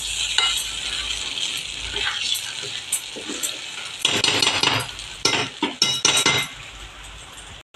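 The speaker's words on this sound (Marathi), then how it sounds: "आता मी वर झाकण ठेवणार आहे" A lid is set onto a pan of jowar flour ukad cooking in plenty of oil, with metallic clinks and scraping among a faint background sizzle, several sharp knocks clustered near the end.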